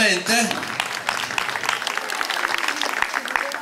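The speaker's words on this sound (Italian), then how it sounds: "l'omaggio al grande Totò, al quale va un applauso naturalmente." An audience at a fashion show in Naples claps steadily for a few seconds, a broad even wash of applause after a brief spoken moment at the start.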